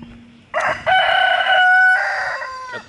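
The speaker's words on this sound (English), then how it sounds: "Got the damn rooster crowing over here" A rooster crows loudly and close by in a long, sustained cock-a-doodle-doo with a short lead-in note, heard alone against a quiet background.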